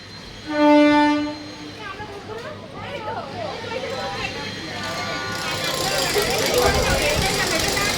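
A passenger train at Madhyamgram station sounds a loud horn blast near the start, then the cars rumble and clatter steadily while people talk in the background.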